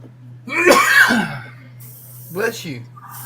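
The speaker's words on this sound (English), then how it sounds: "More of a cough than a sneeze, but I'll take it." A sudden close burst of a sneeze mixed with a cough, followed about a second later by a shorter rough cough-like exhale, over a low steady hum.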